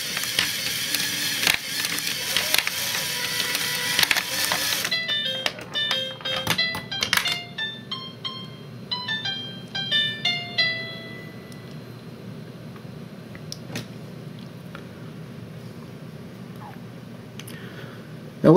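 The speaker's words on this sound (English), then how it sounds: "I'm going to turn the machine off and then on again because it tests that thing every time you turn it on" An Arduino-controlled pinball machine powers back up and runs its self-test. After a loud burst, a series of quick mechanical clicks and ticks follows for several seconds, then the sound settles into a quieter steady hum. No one speaks.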